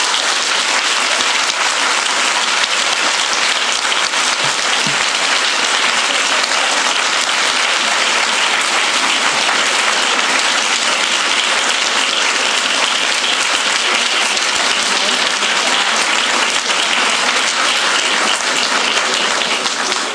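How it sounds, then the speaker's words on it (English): A courtroom audience at a moot court competition final round applauds the competitors, with sustained, loud, even clapping running unbroken from start to finish. "Give a round of applause for our competitors"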